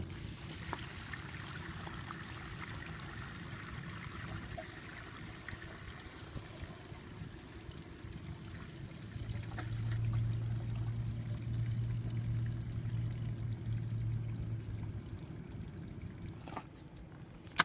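Water pours out of an RV black water holding tank as it is drained, a steady gushing flow that swells louder midway through the clip with no one talking.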